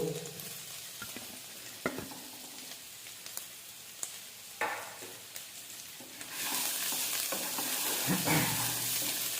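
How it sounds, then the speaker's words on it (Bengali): Chopped ginger and garlic, about ten grams each, fry in a pan for aloo palak, sizzling with occasional stirring clinks and scrapes. The frying hiss swells much louder partway through. "এটাকে হালকা গোল্ডেন ব্রাউন কালার আসা অবধি ভাজতে হবে।"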